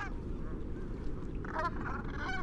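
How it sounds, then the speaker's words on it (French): Brant geese honk in a loose flock, a few calls early, then a louder cluster of overlapping honks in the second half, set against a steady low outdoor rumble. "J'aimais bien les bernaches"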